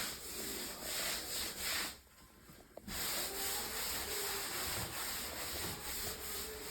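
Sponge or cloth wiping excess grout off ceramic bath tile, repeated soft rubbing strokes close up, pausing briefly midway before the scrubbing resumes, no voices.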